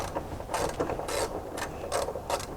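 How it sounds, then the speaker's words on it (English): A ratchet wrench removes screws from a shock tower dome on a Dodge Challenger, producing close, rapid clicking bursts in short repeated strokes with brief pauses between them. "Now all we have to do is pop our screws off here."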